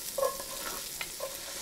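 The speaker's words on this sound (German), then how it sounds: "im Schmalz werden wir jetzt die Speckwürfel anbraten und auslassen" Bacon cubes fry in lard in a Dutch oven, giving a soft, steady sizzle broken by a few light stirring scrapes.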